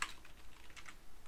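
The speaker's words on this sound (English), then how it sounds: "Why am I typing this wrong every time?" Quick, light typing on a computer keyboard while writing Unity game code, a soft patter of keystrokes close by with no talking.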